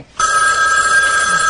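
A telephone bell rings loud and close, a steady sustained electronic trill that cuts in abruptly after a brief quiet moment, with no voices over it.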